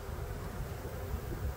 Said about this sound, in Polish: Pszczół tu jest dość sporo jeszcze